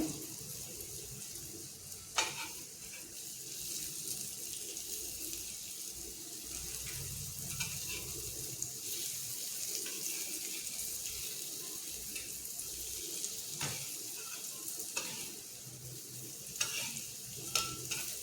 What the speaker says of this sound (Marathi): हे बघा आता आपण परतून घेऊया